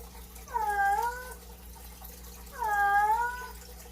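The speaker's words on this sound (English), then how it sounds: "I think maybe like 1 or 2 more days and she should be done with her meows." A cat gives two drawn-out, rising-and-falling meows about two seconds apart, clear and fairly close, over a low steady background hum.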